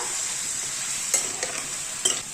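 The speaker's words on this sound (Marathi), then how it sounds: "पनीर फ्राय करायला ठेवलेलं आहे" Steady hiss of paneer frying in a little hot oil, with a few sharp clinks of a utensil stirring near the end.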